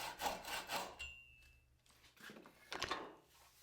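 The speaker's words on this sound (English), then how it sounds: "picks up the saw and cuts carefully down to the other cut" Hand saw cutting down through a wooden dovetail joint in a Shaker-style door frame, strokes rasping in a steady back-and-forth rhythm with a pause midway, close and fairly quiet.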